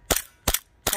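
Three sharp gunshots from a Sarsılmaz SAR 9 pistol crack out in quick, evenly spaced succession, each loud and abrupt with a short decay.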